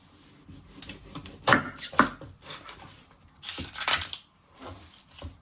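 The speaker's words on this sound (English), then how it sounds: "You're first going to chop your end off." A knife chops the end off a red onion on a board in a few crisp, close cuts, scattered through the clip with quiet gaps between them, no talking.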